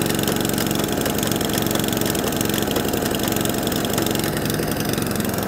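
An Atco Balmoral cylinder lawnmower engine runs loud and close, a steady buzzing petrol drone with a rapid even firing pulse, slightly rough as if wanting choke and a carburetor clean.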